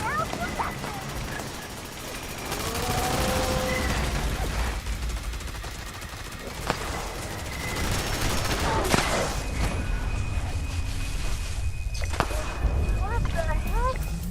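Gunfire in the video game Fallout 76, bursts of shots and sharp cracks scattered through a busy game soundscape, with people talking over much of it.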